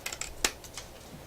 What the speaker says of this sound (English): I took scissors and just cut along that